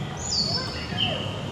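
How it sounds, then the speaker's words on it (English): Bird chirps and whistles echo through an indoor space aboard the Utopia of the Seas cruise ship, faint high calls over a steady murmur of background chatter and ambient noise. "I love the bird noises in here."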